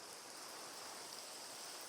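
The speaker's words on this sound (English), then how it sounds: "It's raining outside." Rain in Minecraft with the FTB Unstable modpack, a steady, faint hiss of falling rain with no breaks or other sounds.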